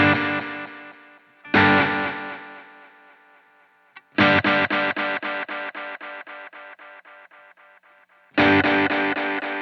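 Electric guitar through a Strymon EC-1 tape echo pedal set to full mix: struck chords followed by a string of rhythmic, evenly spaced repeats that gradually fade, with a gap of silence before the next strum.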